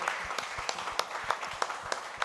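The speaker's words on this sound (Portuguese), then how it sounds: "Você pode levantar as suas mãos e aplaudir ao nosso Senhor?" Church congregation applauding during a service, a brief burst of continuous clapping from many people, fairly loud and close, with a few sharper individual claps standing out.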